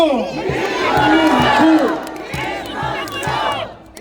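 At a presidential campaign rally in the north plaza of Bucheon Station, South Korea, a large outdoor crowd roars and chants in rhythmic, pulsing shouts with cheering mixed in. The sound is loud and sustained.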